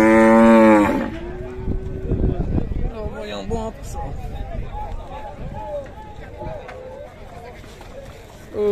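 Cattle in a livestock market corral moo, one loud close bellow followed by softer lowing and restless movement, with people talking throughout.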